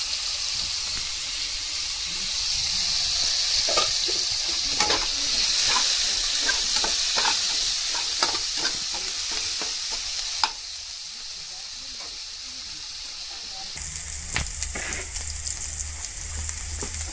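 Onion, garlic and bay leaf fry in a pan with a continuous loud hiss and sizzle, while stirring adds repeated close scraping clicks; the sizzle drops briefly, then swells again near the end.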